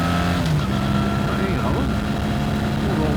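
A BMW R1300 GS adventure motorcycle engine revs loudly up close, its boxer twin rising and falling in pitch with a slight shudder, continuous over the short stretch.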